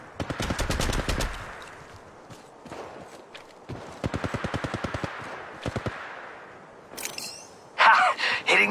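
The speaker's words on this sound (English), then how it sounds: "They're shooting at me." Automatic gunfire in Apex Legends Mobile, with rapid bursts of shots near and loud at the start and again midway, shorter volleys between, and a few sharp effects at the end.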